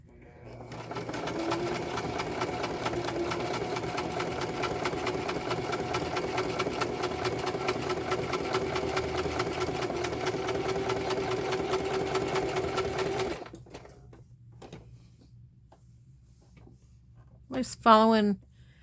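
A sewing machine stitches steadily and loudly for about thirteen seconds while following a tag shape, then stops; a short burst of speech follows near the end.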